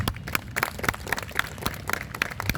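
An audience at a Hindi speech claps in a quick, steady rhythm. The sharp claps land close together for the whole moment, loud and without any talking.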